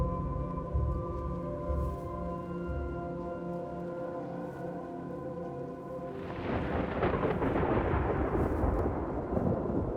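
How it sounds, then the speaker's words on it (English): Thunder in the video game Antichamber swells into a broad, loud rumbling roar partway through, over a steady droning tonal backdrop. "The sound of thunder."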